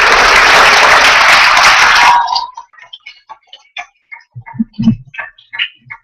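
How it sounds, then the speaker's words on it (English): Dense applause for graduates at a youth policing program ceremony held at police headquarters rolls loudly for about two seconds, then cuts off abruptly, leaving a few scattered, sparse claps and faint stray sounds. "Ladies and gentlemen, a round of applause for our graduates"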